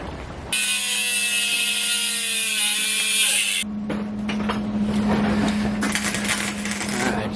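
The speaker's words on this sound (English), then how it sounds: "now I'm going to cut this because it's way too wide" A metal part for a mini bike's 440cc big block engine swap is cut with a power tool: a loud, steady high whine for about three seconds, then rougher grinding and rattling over a constant low hum.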